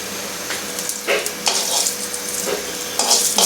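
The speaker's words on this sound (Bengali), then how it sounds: "জিরা ফোড়ন দিয়ে দিলাম।" Cumin seeds sizzle in hot oil in a kadai on a gas stove, a steady close frying hiss with a few stirring scrapes and bursts of spattering.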